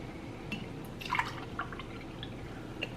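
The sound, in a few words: liquid dripping through a filter that turns soda into water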